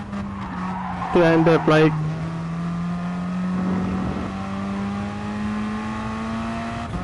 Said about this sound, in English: just one tiny wheel off the track and it went completely sideways